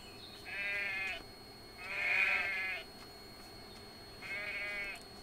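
Sheep in the farming game EverDream Valley bleating three times, each a drawn-out wavering baa about a second long with brief pauses between, moderately close over a quiet background.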